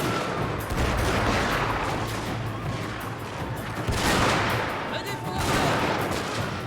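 Musket and artillery volleys roar in a Shogun 2 Total War battle, a dense continuous crackle of massed gunfire with heavier booming swells, loud and sustained, while a voice talks over it.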